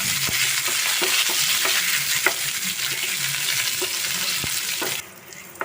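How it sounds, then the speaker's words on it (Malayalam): Green chillies and curry leaves fry in a hot pan for Chicken 65, a continuous close sizzle broken by repeated scraping and clicking of a spoon stirring, the sizzle dropping sharply near the end. "ഇനി ഇതിലേക്ക് ഒരു തണ്ട് കറിവേപ്പില ഇട്ട് കൊടുത്തിട്ട് നല്ലപോലെ ഇളക്കി കൊടുക്കുക."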